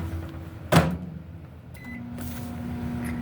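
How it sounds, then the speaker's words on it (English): A microwave oven runs with a steady low hum and faint whirring, broken by a brief door or cupboard knock near the start and a short high tone later; the microwave works without sparking. "I'm working on my microwave."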